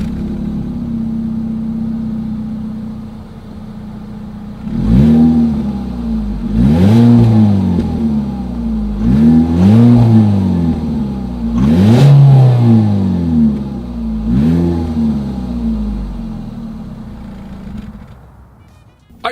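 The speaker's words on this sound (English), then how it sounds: "As always, here is that exhaust clip." A Ford EcoSport's single exhaust idles, then revs five times in a steady rhythm, each rise and fall loud and close, before settling back to idle.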